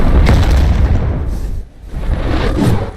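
Explosion attack from a monster in the Kaiju Universe video game, a loud, dense boom that rumbles for about three seconds, dips briefly, then swells again.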